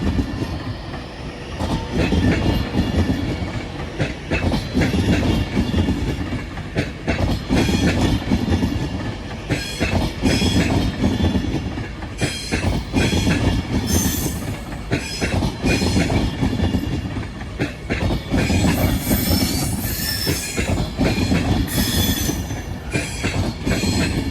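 Avanti West Coast Class 390 unit 390020 passes at Crewe, running the 09:10 London Euston to Manchester Piccadilly service, with loud, sustained rumble and rhythmic clickety-clack of wheels over rail joints and some wheel squeal, close by throughout.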